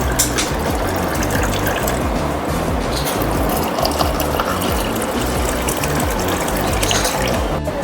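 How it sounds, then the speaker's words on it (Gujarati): Water poured into a glass of lemonade with lemon juice, mint leaves and ice cubes, a steady continuous splashing and rattling pour that runs close and fairly loud through the whole stretch with no talk. "તો હવે આપણે તેમાં પાણી નાખી લઈશું."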